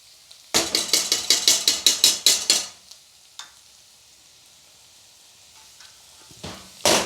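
Softening onions fry in a pan with a spoonful of butter ghee, giving a quick run of about ten rhythmic, sizzling stirring scrapes, then near quiet with a couple of faint clinks and a final burst of sizzle.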